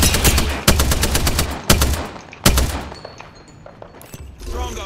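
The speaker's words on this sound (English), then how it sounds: "Being shot at." Rapid bursts of gunfire in the video game Apex Legends, loud sharp volleys repeating in clusters with brief gaps, fading toward a quieter tail with faint game effects.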